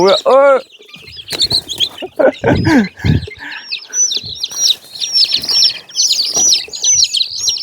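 Hundreds of young chickens on a farm cluck and peep close by, with chirpy calls repeating throughout and a few loud clucks early on.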